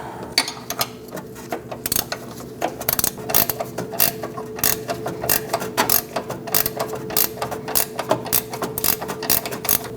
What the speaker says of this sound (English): I'm going to use my ratchet wrench and get these started.